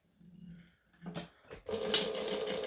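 A sewing machine stitching a fabric wristlet: a few soft clicks and short bursts, then a steady, fairly loud whirring run of stitching.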